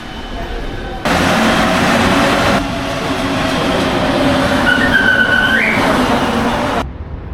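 A Mexico City subway train rumbles steadily for several seconds, a loud broadband roar with a brief high squeal of wheels or brakes near the end.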